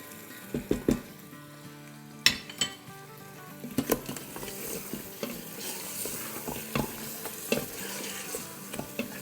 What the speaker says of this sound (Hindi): अब इसको हम दही डाल के भूनेंगे